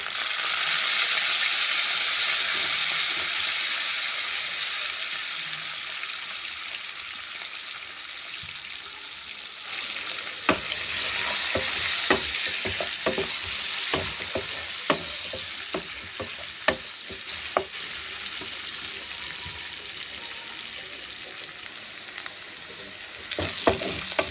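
Green chillies and mint fry in oil for egg biryani, a continuous close sizzle that grows busier midway with repeated scraping stirs and spoon knocks against the pan.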